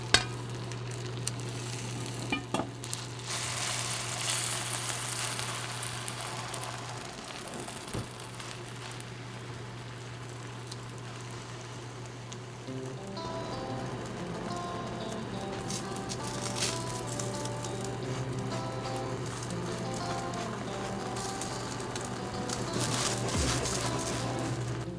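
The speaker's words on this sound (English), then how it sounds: "Add enough olive oil into frying pan and use medium heat." A potato mix fries in olive oil in a pan over medium heat, giving a steady close sizzle with light crackling and occasional soft stirring scrapes.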